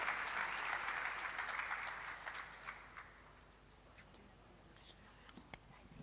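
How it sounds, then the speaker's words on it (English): Conference audience at a FemSTEM Africa opening session claps for the panelists, a full round of applause that tapers off into scattered claps and faint murmuring. "Big last round of applause, my people."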